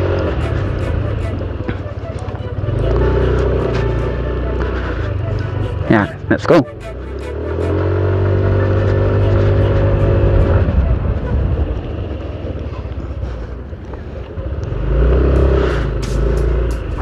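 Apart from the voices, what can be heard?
Yamaha Nmax 155 scooter accelerating then braking hard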